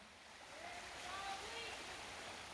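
Creek water flows in a steady, soft rushing wash, swelling slightly after the start, with faint voices in the background.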